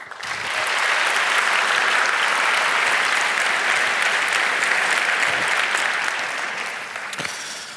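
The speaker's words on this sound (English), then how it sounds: "welcome him with a big round of applause" A large conference audience at 33c3 claps loudly and continuously for several seconds, the dense applause holding steady before thinning out toward the end.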